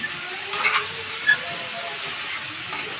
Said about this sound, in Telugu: ఇప్పుడు ఈ టమాటా ముక్క అనేది ఉడికిపోవాలి